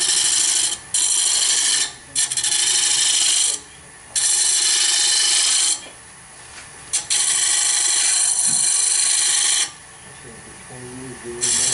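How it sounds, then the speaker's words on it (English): A negative rake scraper worked along the edge of a wooden wig stand, giving long rasping strokes in bursts with short pauses between them, fairly close and loud. "So I'm going to use a negative rack scraper to do that."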